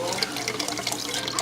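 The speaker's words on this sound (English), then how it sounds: "I'm going to add a little bit of chicken broth in there to clean them out" Chicken broth poured into emptied cans while making chili, a continuous close liquid splash and trickle with a steady, bright wash throughout.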